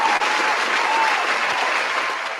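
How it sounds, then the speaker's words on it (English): A studio audience gives a short, loud burst of applause for a right answer. The clapping stays dense and even for a couple of seconds, then fades slightly, with no speech over it. "the right answer gets a round of applause"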